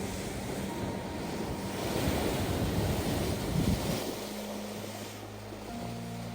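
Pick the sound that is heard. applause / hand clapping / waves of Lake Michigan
waves of Lake Michigan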